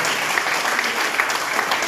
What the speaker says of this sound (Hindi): मैं चाहूँगा इन लोगों के लिए, अपने शहर के युवाओं के लिए एक बार आप तालियां बजाएं।